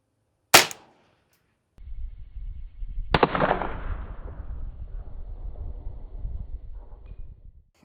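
A Ruger 10/22 .22 rifle fires a single sharp, loud crack at a bulletproof face mask outdoors, followed by a quiet pause, then a second impact-like burst trailing into low rumbling wind noise.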